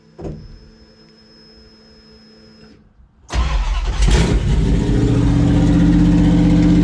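Fuel-injected 1970 Plymouth Cuda: a brief electric fuel pump prime hum, then the engine cranks and catches at about three seconds into a loud, steady fast idle with a burst of revving, close to the car.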